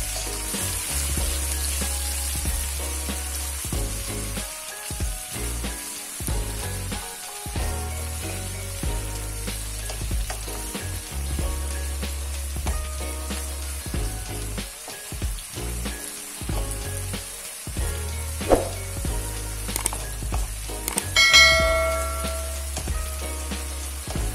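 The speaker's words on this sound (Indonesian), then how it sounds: "Lanjut tumis lagi sampai aroma bumbu yang tadi itu harum dan warnanya agak sedikit berubah cuy." Ground spice paste for Balinese chicken stir-fries in hot oil, a steady close sizzle and crackle with occasional scraping stirs of the spatula, continuing without voices throughout.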